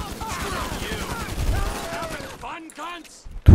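Automatic rifle fire in GTA 5 crackles in a dense, rapid burst under a voice, then thins out to a few scattered shots and a loud final crack.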